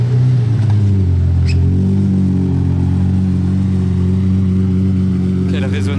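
A Lamborghini with a non-stock exhaust idles and revs on a casino square. It gives a deep, resonant, steady drone that swells slightly, close and loud, with a crowd murmuring faintly around it.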